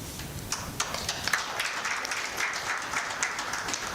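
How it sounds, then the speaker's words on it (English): An audience at an Eastern Caribbean Central Bank anniversary lecture in Saint Vincent and the Grenadines applauds steadily but fairly softly, with a few louder claps standing out. "a round of applause for that"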